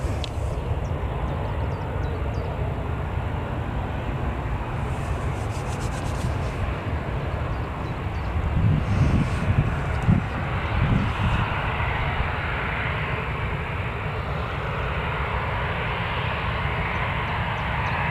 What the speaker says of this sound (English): it does look like the KLM's just holding short there, just whilst this Ryanair obviously taxis out first